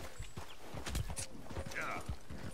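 Hooves clip-clop from a horse in Red Dead Redemption 2, a run of close, uneven thuds spread across the clip, a brief whinny-like call rising near the end, with talk mixed in.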